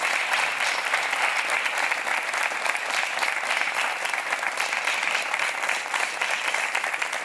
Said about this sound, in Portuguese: Um aplauso para o António.